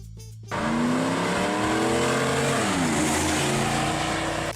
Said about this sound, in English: Number 6, 1985, Chevrolet Camaro IROC-Z.